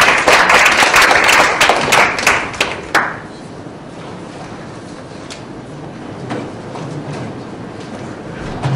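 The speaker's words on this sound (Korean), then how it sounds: "뜨거운 박수로 맞이해주시기 바랍니다." Audience applause at an academic panel conference, a dense burst of clapping for about three seconds that quickly fades into scattered claps and room noise.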